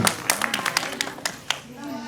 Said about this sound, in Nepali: कृपया ताली बजाइदिनु